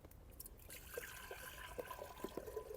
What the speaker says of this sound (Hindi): तो सबसे पहले हांडी को चढ़ाते हैं चूल्हे पे और इसमें डालते हैं पानी